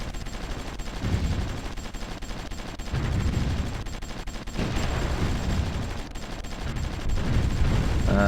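Artillery bombardment and gunfire in the Supreme Ruler Ultimate strategy game, heard as a steady roar of rumbling blasts and crackling fire that swells in waves throughout, with no talking.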